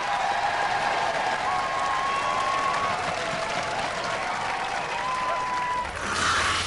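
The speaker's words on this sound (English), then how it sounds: "Ladies and gentlemen, give them a round of applause, the Stinger Posse!" A studio audience at a Robot Wars semi-final breaks into loud, sustained applause and cheering that fills the hall for several seconds, with a faint voice or tone running underneath.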